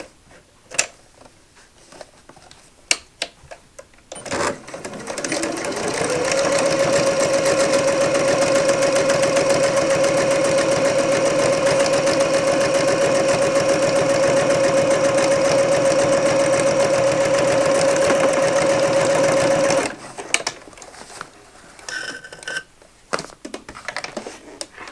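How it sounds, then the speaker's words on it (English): Sewing machine topstitching across a faux leather wallet: a steady, loud mechanical whir that ramps up, holds for about fifteen seconds with a constant whine, then stops, with faint handling noises before and after. "go ahead and top stitch right across that lip there"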